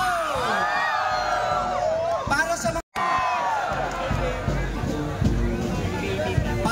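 Pilgrims at the Our Lady of Salambao shrine erupt into loud, sustained shouting and cheering, a massed roar of many voices with whoops, briefly cutting out before surging again.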